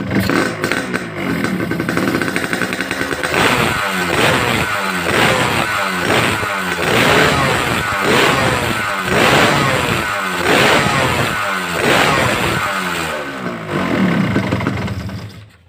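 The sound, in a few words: Yamaha RX motorcycle engine starting and running after YZ ignition fitted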